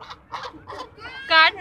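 Park ducks give a run of close, loud quacks and honking calls in quick succession, with the last call the loudest, outdoors in Gulzar Sadique Park, Bahawalpur.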